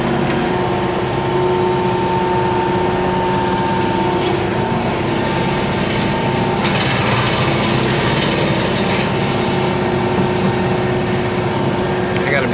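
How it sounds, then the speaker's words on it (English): A Baumalight MP360 brush mulcher on a tractor chews through brush with a loud continuous engine and rotor roar and a steady high whine, while someone talks over it. "So dropping it down and running it forward is definitely mulching everything up."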